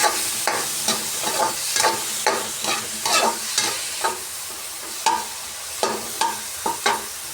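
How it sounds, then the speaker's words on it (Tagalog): Onion and garlic sautéing in a pan: a constant close sizzle broken by a steady rhythm of spatula scrapes and taps as the mixture is stirred, no talk. "Igigisa lang natin ito sa sibuyas at bawang."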